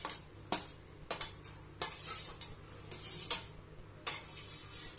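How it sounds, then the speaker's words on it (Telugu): Potatoes frying in a pan for potato masala, metal spatula scraping and clanking against the pan in uneven bursts over a faint background sizzle, close and fairly loud, with no talking. "ఈ ఆలు అంతా కూడాను ఇలా దీంట్లో వేసేసుకొని ఫ్రై చేసేసుకున్నాను"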